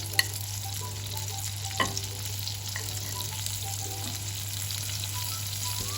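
Doner kebab shawarma meat frying on a gas hob over medium to high heat, a faint steady sizzle with occasional pops and spatters beneath a constant low hum.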